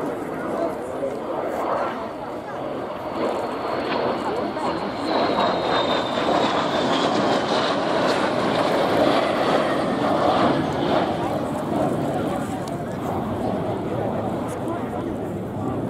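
A de Havilland Vampire jet at an air show, a steady loud engine roar that rises and falls with a faint whine, heard under people talking nearby.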